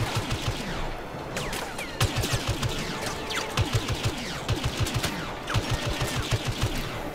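Laser blaster fire from Star Wars Battlefront rattles out in rapid, loud bursts of repeated shots, with short pauses between volleys and other gunfire in the background.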